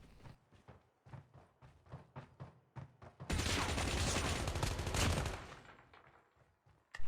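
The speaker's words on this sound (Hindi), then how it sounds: "मेरे को आगे से फायरिंग का आवाज़ आना शुरू हो गया" Sustained automatic gunfire bursts in COD Mobile, loud and dense, erupting after a run of footsteps and continuing for about two seconds before tapering off.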